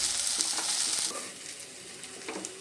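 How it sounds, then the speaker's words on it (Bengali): Onion, ginger, garlic, tomato and green chilli frying in a pan, a loud, bright sizzle at first that settles lower, with a few scraping stirs, close up and without voices. "একই সঙ্গে পেঁয়াজ, আদা, রসুন, টমেটো, কাঁচা লঙ্কা বেশ কিছুক্ষণ ধরে আমি ভেজে নিলাম"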